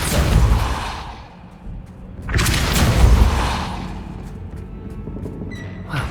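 The Depulso force spell cast in Hogwarts Legacy on PS5, inside a haunted nightmare realm: two heavy, booming whooshes a couple of seconds apart, loud and close, each trailing into a rumbling wash.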